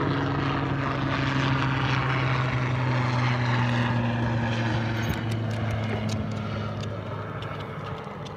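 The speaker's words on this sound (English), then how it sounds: "Helicopter flying right over our head." A helicopter passes overhead outdoors near a generator, giving a loud, steady rotor and engine drone with a low tonal hum that holds for several seconds and then eases slightly toward the end. No one speaks.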